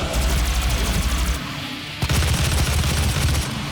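Gunfire from the video game Doom 2016 crackles in rapid, loud volleys with heavy low thumps, pausing briefly before resuming, with no voices.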